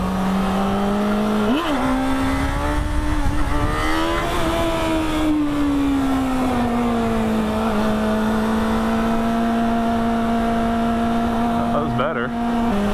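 A Yamaha FZ6 motorcycle engine holds a steady, loud drone with rises in pitch as it revs during wheelie practice on a public road, with a rider talking over it.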